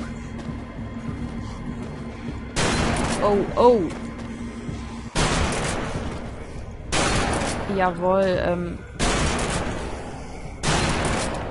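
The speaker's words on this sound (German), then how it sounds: "um einfach mal die Schrotflinte auszuprobieren, ne? Ein paar Schuss." Several loud, booming shotgun blasts in the video game Deadlight, spaced a few seconds apart, with a voice briefly speaking in German between blasts.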